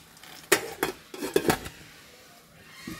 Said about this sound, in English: We have an egg whisk.